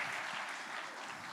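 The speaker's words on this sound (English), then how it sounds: "give a huge round of applause for our judges" Audience at a dance competition applauding the judges, a steady wash of clapping heard at a distance and fairly faint, with no break.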